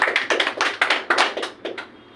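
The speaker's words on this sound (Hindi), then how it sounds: "तालियां बजाइए" Hands clap in quick, irregular bursts from an audience at a food safety event, loud and close, with about a dozen sharp slaps and no talk over them.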